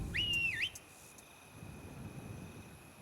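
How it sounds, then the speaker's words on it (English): A whistle for calling a horse in the video game Skyrim: a short rising-and-falling tone lasting about half a second over quiet background hum, then fading into a faint ringing tail. "Horse whistle, yeah."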